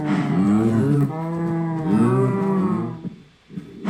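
Cows on a cow farm in the Minecraft video game moo in two drawn-out, loud, close lowing calls, one after another, with no talking over them.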